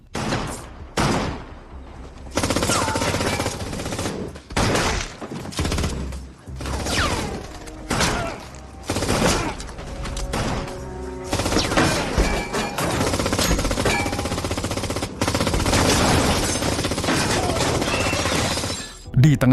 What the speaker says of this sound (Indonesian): Di tengah baku tembak